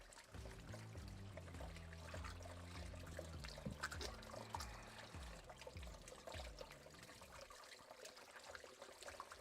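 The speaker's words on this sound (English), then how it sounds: "just washing my hands" Running water pours from a tap over hands being washed, a steady trickling splash with brief bursts, fairly quiet and close, ending as the flow stops near the end.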